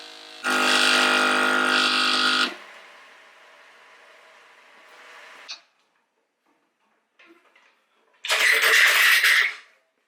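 A portable tire inflator pumps air to a preset 35 psi while repairing a nail-punctured tire: a loud steady motor buzz for two seconds, then a quieter hum that cuts off, and a second short loud burst after a pause.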